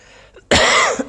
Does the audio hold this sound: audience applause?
no